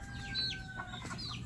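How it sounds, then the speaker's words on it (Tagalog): Chickens cluck and call intermittently at a moderate distance in a Filipino auto repair setting, with short squawky notes over a steady low background hum. "Daming manok eh."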